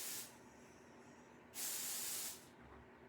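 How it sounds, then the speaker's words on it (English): A Pixie Spray bottle sprays onto a stencil in two close bursts: a short hiss at the start, then a longer, stronger spray of about a second, with quiet between and no talking. "I'm going to spray my stencil"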